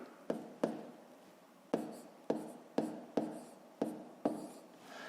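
Pen or pencil strokes on paper while working a school math calculation: eight sharp close taps in quick clusters, each with a short scratchy trail, soft and alone without talk.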